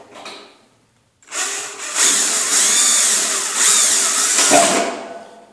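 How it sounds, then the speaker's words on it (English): A handheld power drill bores out a pop rivet in a clothes dryer's sheet metal, a steady high whine lasting a few seconds close up, with the pitch shifting slightly as the bit bites through before stopping. "We'll drill out that hole."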